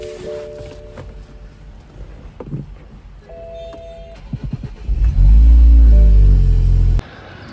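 A BMW 428i convertible idles with a few scattered clicks and thumps, then its engine bursts into a loud, sustained rev for about two seconds before cutting off abruptly.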